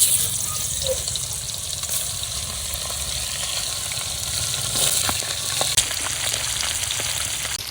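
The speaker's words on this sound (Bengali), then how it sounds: "কড়াইতে তেল দিয়ে দিলাম এবার মাছগুলো দিয়ে দেই" Tilapia fish frying in hot oil in a wok, a steady close sizzling hiss with scattered pops and a few light scrapes of a utensil.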